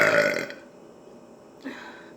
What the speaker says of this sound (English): That helps you to burp.